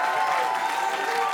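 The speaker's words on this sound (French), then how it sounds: "On l'applaudit bien fort, s'il vous plaît." A live audience applauds a man in a cap at a stand-up comedy show, steady dense clapping filling the whole moment at moderate loudness with no talk over it.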